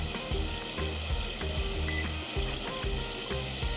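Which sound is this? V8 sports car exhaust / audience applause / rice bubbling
rice bubbling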